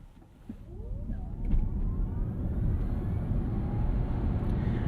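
A 2023 Genesis GV60 electric car launched hard from a standstill in sport mode, its rising motor whine sweeping upward over a loud, steady road and wind roar heard from inside the cabin.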